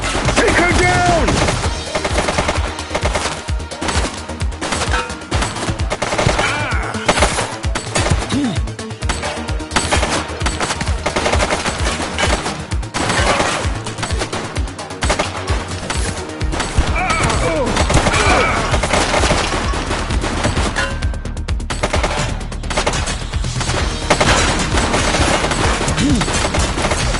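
Long stretch of heavy gunfire in the police video game The Precinct, with rapid automatic bursts, scattered single shots and impacts, and occasional shouting voices over the steady loud din.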